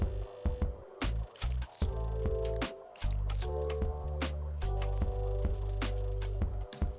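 Fast hi-hat pattern programmed with a crisp 'Clean' hat sample in a hybrid trap beat, rapid ticking hats running over heavy, booming bass and synth layers.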